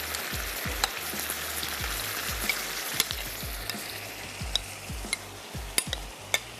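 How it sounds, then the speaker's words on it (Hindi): Chicken strips fry in hot oil in a pan, giving a steady close sizzle throughout with repeated low thumps and occasional sharp clinks from stirring or handling, and no talking. "यहाँ पर ये चिकन फ्राई होने के लिए रख दी और ये जो स्ट्रिप्स में कटी हुई चिकन थी ये भी मैं इसमें ऐड कर देती हूँ"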